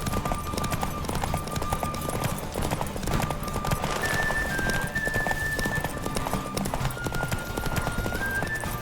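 Rapid, rhythmic hoofbeats of a galloping horse in a horse race in The Witcher 3: Wild Hunt, loud and continuous, with an occasional whinny over busy game sounds.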